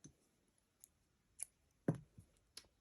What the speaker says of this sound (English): then you're going to cut your thread